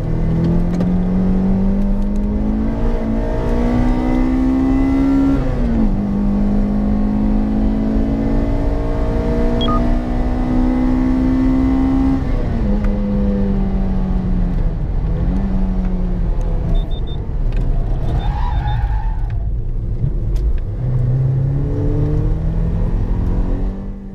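A Toyota Corolla T Sport on wider tires laps a race track, its engine revving up and down through repeated gear changes, loud and close throughout.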